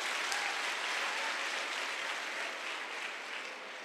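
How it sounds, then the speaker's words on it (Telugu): Seated friends at a motivational seminar give a sustained, even round of applause, steady dense clapping heard from within the room at moderate level. "సో అందరి కోసం ఒకసారి మీ తోటి ఫ్రెండ్స్ కోసం కూడా ఒకసారి క్లాప్ కొట్టండి ప్లీజ్"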